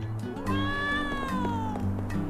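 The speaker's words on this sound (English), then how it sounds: "Nice little kitty." A cat meows in the Trials of Mana video game: a single drawn-out, clear meow that rises and then slowly falls, heard close over soft background game music.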